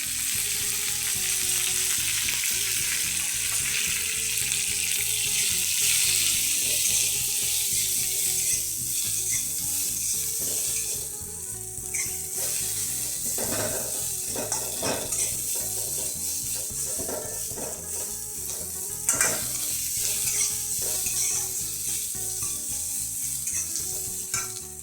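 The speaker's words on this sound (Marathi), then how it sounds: "कांदा भाजण्यासाठी याच्यामध्ये थोडंसं तेल सोडते. कांदा आपला ब्राऊन होऊन आपण भाजून घेऊया." Onions fry in oil until brown with a steady sizzle and repeated rattling scrapes of stirring. The sound stays close and continuous, with no voices.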